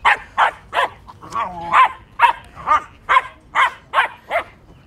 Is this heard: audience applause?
no